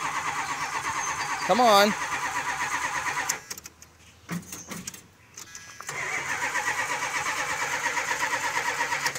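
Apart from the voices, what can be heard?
1978 Chrysler Cordoba engine cranking, hard starting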